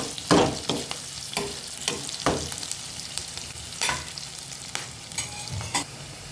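Chopped ridge gourd fries with softened onion in a pan, a moderate close sizzle punctuated by irregular scraping and clinking strokes of a spatula being stirred through, with no speech.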